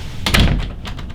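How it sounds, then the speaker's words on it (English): A regular interior door shut in a house with a furnace running at high capacity, giving a single dull thunk over a steady low hum. "And then if we actually shut the regular door"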